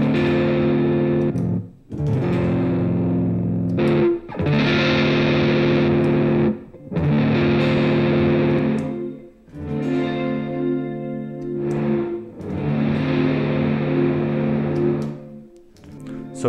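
Heavily distorted electric guitar runs through a MOD Dwarf effects pedalboard, chords ringing loud and sustained, cut off by brief gaps as snapshots switch, the tone shifting between sections with echo and chorus colouring, no voices.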